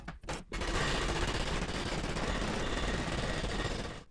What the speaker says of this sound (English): I can refine the corners further with my arsenal of homemade hammer forms made from various bits of scrap.